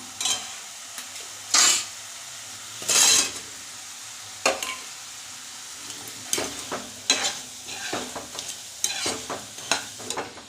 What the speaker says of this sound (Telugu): ఇప్పుడు మనం ముందుగానే ఫ్రై చేసి పెట్టుకున్నాం వెజ్ మంచూరియా అయితే ఇందులో వేసుకొని ఫ్రై చేసుకుందాం